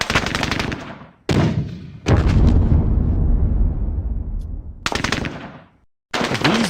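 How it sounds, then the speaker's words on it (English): Mortar fire in the video game Squad Battles Eagles Strike: three loud, close booming blasts, each with a long decaying rumble, separated by brief silences, with a fourth blast starting at the end. "These mortars, they have been a pain in our side since the very, very beginning."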